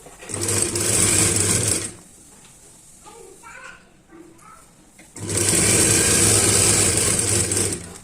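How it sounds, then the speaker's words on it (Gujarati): A sewing machine stitches a blouse strip in two close, loud bursts of rapid whirring with a quieter gap between them, where faint voices and small handling sounds are heard. "જ્યાં આપણે ધાર સિલાઈ કરી છે તેની ઉપર આપણે આવી રીતે સિલાઈ કરશું"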